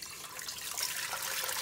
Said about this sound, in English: put in water to bring it to a boil.